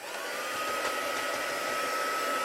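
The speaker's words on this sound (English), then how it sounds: "I've got my heat gun now, so I'm just going to heat this up." A heat gun blows with a steady, high-pitched whirring hiss, constant and fairly close for a couple of seconds.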